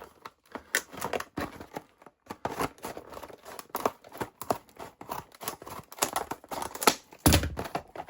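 Tough plastic packaging around a Bauer 4V cordless 1/4 in. screwdriver is cut and pried open, giving sharp irregular snips, crackles and clicks in quick close bursts with no talk.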